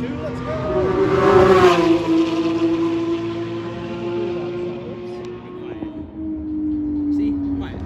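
A GT2 sports car accelerates away at a motorsport show, its engine note climbing then holding a steady tone as it pulls off, loud at first and fading, with a voice speaking over it.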